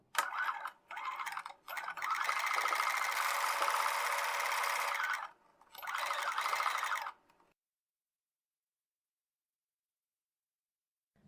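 Sewing machine stitching a foundation paper pieced quilt block, running in short bursts and then one long steady run of mechanical whirring, close and fairly loud, stopping into silence.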